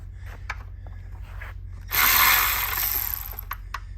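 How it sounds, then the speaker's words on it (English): An electric ratchet removing fasteners from a plastic intake during oil cooler work on a Chrysler 200, with faint clicks and handling noises before a short, loud whirring burst of about a second and a half. "it's okay to take off stuff with the electric ratchet"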